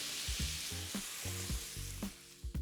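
A second batch of mushrooms fries in oil and butter in a pan. The crackling sizzle is fairly quiet and broken by repeated scraping and stirring strokes in an uneven rhythm, with no talking.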